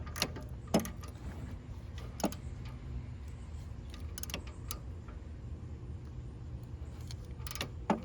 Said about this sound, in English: You're going to take your socket and you're going to tighten this bolt up.